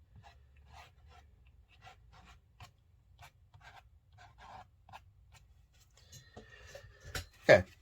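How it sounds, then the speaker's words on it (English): Thin, dry scrapes across watercolor paint on paper, a series of faint, close, short scratchy strokes in an uneven rhythm, ending with a louder brief knock or rustle. "We can get some nice thin scrapes taking place."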